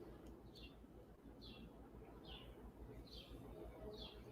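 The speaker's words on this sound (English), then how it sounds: "I can hear the birds chirping outside." Birds chirp faintly in the distance, a short call repeating roughly once a second over a low steady hum.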